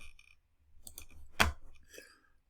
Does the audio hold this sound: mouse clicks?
yes